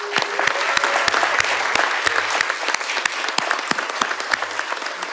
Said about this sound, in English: Please join me in giving all of our artists and educators a well-deserved round of applause.